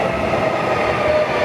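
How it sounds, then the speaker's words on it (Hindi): Passenger train pulling into a station in Perth, Australia, giving a loud, continuous close rumble of wheels and carriages with a faint metallic whine and no voices. "रेलगाड़ी आ गई, छुच्चू छुच्चू रेलगाड़ी"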